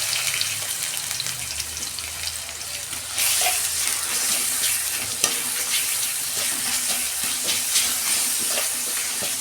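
Garlic frying with browned onions in a pan for a dried fish recipe, a steady sizzle that jumps louder as the garlic drops in, with scraping stirs and occasional spatters close by.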